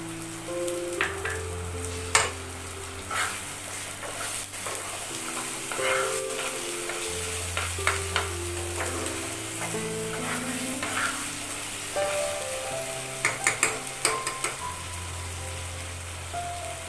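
Mutton curry with tomato paste frying and sizzling in oil, with steady stirring scrapes, a few utensil clicks and low musical tones running underneath throughout.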